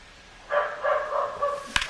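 A dog named Maple barks in a short run of several yips and barks, close and fairly loud, during a home baseball video-game session, followed by a brief sharp knock.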